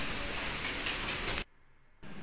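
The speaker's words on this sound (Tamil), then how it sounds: "பயங்கரமாக மழை பெஞ்சு இருக்கு" Heavy rain pouring down in Chennai, a loud, steady broadband wash that cuts out abruptly for about half a second near the end before resuming.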